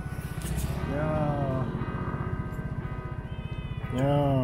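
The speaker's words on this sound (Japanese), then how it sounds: "猫ちゃん" A cat meows outdoors at night near a fishing harbor in Penghu, Taiwan, with two distinct drawn-out calls, one near the start and another at the end, over a steady low idling engine hum.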